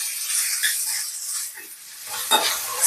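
Ginger garlic paste sautéed in a pan for a prawn pepper curry sizzles with a soft, close hiss, a brief flare of crackle near the end.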